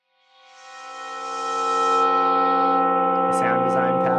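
A sustained, harmonically rich synthesized singing bowl feedback tone swells in slowly and then holds steady, ringing like a bowl feeding back, with a few faint clicks near the end.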